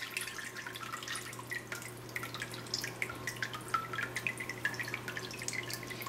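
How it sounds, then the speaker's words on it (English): Water drips and trickles steadily as it drains from freshly scooped paper pulp held in a mold during home papermaking, a close, quiet run of small irregular drops over a low steady hum. "Then we will let the water drain."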